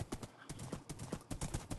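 Horse hooves clip-clop in a video game, a quick uneven run of roughly a dozen hollow knocking steps, close and fairly soft, with no voices over them.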